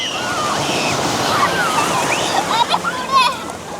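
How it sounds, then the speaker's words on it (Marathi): Surf washes onto the beach at Om Beach in Gokarna, a steady broadband wash of breaking waves with splashes, while children and adults chatter and call out over it throughout. "लाट आली"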